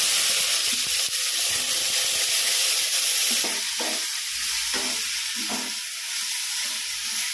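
Onion fries in hot oil just after mustard and fenugreek seeds have popped, a loud continuous sizzle up close, joined later by a few spoon scrapes and stirring knocks.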